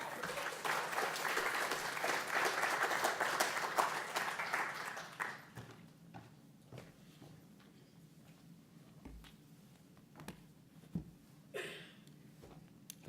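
Audience applause welcomes an author back to the National Archives at a Civil War book fair, a crowd clapping briskly for about five seconds before it drops away to scattered claps and room noise.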